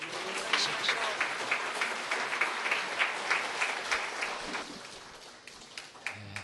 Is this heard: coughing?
no